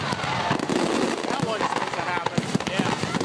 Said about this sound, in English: What happens when fireworks go bad?